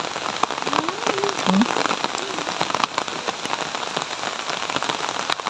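Steady rain pours down on a surface outdoors during planting, a dense continuous hiss with scattered drop impacts, close and fairly loud throughout.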